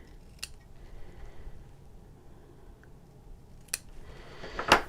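Scissors snip ribbon tails during card crafting in a quiet room, with two or three short, crisp metallic cuts spaced a few seconds apart and a sharper, louder snip at the end.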